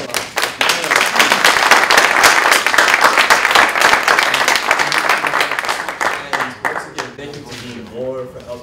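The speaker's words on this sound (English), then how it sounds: "Round of applause." A loud, sustained round of applause from the audience at a panel discussion on moral courage and guns, steady clapping that fills the room and tapers slightly near the end, with voices mixed in.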